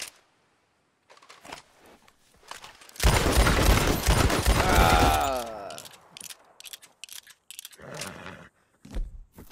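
Explosive gunshots in the Western video game Red Dead Redemption: a loud, dense two-second burst of rapid blasts, followed by scattered quieter thuds and clicks.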